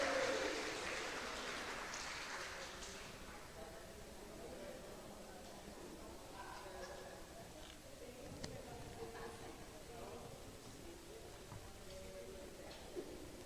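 An audience at a congress panel session applauds. The clapping is loudest at the very start, then thins and fades into a soft patter beneath a speaking voice.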